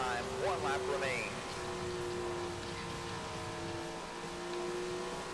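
A sprint car engine in Tony Stewart's Sprint Car Racing video game holds a steady, high droning whine. Its pitch sweeps up briefly at the start, and a voice talks over it.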